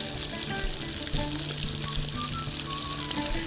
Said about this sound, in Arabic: هكمل بقيه الميه.